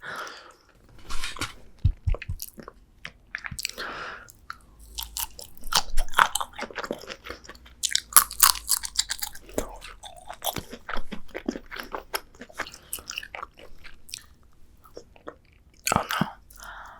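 Crispy southern-style fried shrimp crunch loudly in close bites, followed by wet chewing in irregular bursts, with no voice.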